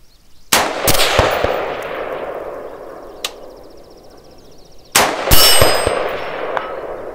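An AR-15 pistol fires two loud, sharp shots outdoors at a range, each followed a moment later by a faint distant clang from a steel target about 400 yards away, with rolling echoes between.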